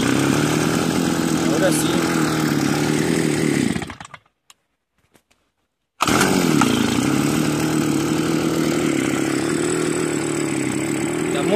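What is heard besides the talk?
Homelite brush cutter engine starting and running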